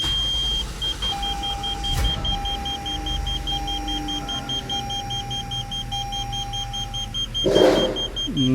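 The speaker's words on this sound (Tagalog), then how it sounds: "So engine start." A Toyota Avalon with a badly misfiring engine idles with a steady low rumble under repeating electronic beeps and a long dashboard tone, then a louder burst near the end.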